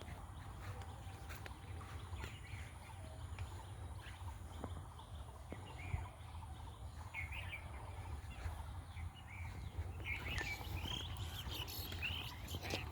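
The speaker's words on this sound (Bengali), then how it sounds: "পাখিদের কিচিরমিচির শব্দ" Outdoor ambience in an open field on a late spring afternoon, with scattered bird chirps and tweets, a few sharper calls near the end, over a steady low rumble of open-field background noise.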